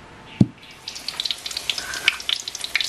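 Minced garlic frying in oil until crispy, a sharp knock at the start followed by irregular close pops and crackles over a light sizzle.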